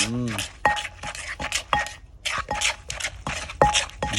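Pestle striking a mortar while pounding a Thai peanut and fermented-fish salad: a series of sharp, clacking knocks with short ringing tones at an uneven rhythm, with a voice heard briefly at the start.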